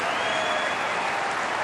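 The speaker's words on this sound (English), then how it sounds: "Terrific point though, appreciated and applauded quite rightly by the crowd." Tennis crowd applauding a point at the 2007 Australian Open fourth-round match, steady dense clapping from a large audience throughout, loud and even with no pauses.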